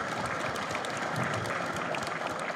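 A convention audience at a comic con claps steadily for a guest on stage, a dense, even wash of applause from a crowd heard alone and moderately distant.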